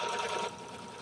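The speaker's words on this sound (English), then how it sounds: "So I'm just basting my batting to the hoop." A sewing machine basting batting to an embroidery hoop runs in a quick, faint mechanical whir that eases off midway and continues more softly.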